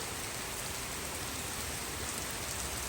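Heavy rain pours steadily in Italy, a dense, even hiss of drops on surfaces filling the scene without pause and without any voices.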